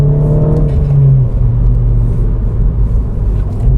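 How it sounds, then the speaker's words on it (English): Mini car engine at close range, a loud steady intake roar with a low droning tone that drops in pitch after about a second as the throttle is released, then a rumbling settle; no distinct flutter stands out. "You hear the intake roar, you hear the wastegate flutter when you let go of the accelerator."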